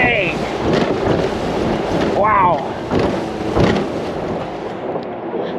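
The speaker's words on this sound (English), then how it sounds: "it's super windy out here" Strong gusty wind buffets the microphone over choppy water with whitecaps beside a boat, roaring rumble throughout with a few brief exclamations from a person on board.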